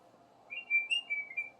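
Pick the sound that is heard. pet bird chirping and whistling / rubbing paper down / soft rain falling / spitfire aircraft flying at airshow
pet bird chirping and whistling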